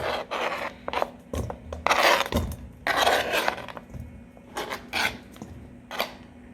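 Cubes of butter worked with a pastry cutter in a bowl for a lemon bar crust, a series of close, uneven scraping and clinking strokes with short pauses between them.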